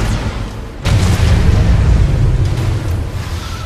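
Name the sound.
nuclear weapon explosion in C&C Rivals video game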